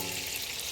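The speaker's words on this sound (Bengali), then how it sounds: "আলু ভাজাটা হচ্ছে দেখো" Potatoes fry in a pan, giving a steady, close sizzling hiss with no break and no voices over it.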